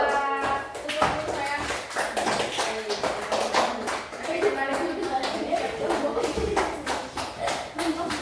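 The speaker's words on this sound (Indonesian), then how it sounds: "kasih tepuk tangan untuk kelompok dua" Elementary school classroom applause for a student group, a dense burst of many small hands clapping at close range with children's voices mixed in.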